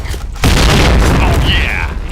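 A grenade blast in a video game: a sudden deep boom erupts mid-clip and rumbles on loudly, with a shouted voice and game noise around it.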